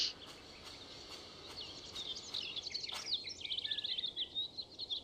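High, twittering birdsong fills a garden in the Syberia video game, with quick chirps and trills building and growing busier over soft ambient background noise.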